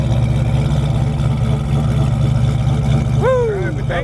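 On a cold morning, a 1932 Ford Cabriolet resto-mod hot rod idles steadily nearby with a loud, low, throbbing rumble. Near the end a voice briefly cuts in over the engine.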